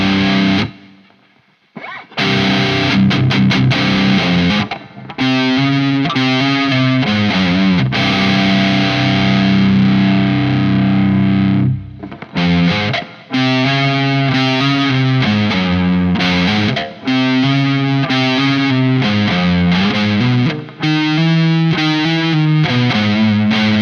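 An electric guitar through a Jeff Loomis Devil's Triad overdrive, boost, reverb and delay pedal plays loud distorted chords and riffs. Short breaks let the reverb tails ring out.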